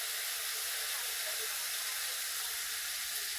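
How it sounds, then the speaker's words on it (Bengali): A ground paste of ginger, cumin and chili fries in hot oil in a pan, giving a loud, steady, close sizzle that hisses without a break from start to finish. "এই মশলাটাকে ভাজবো।"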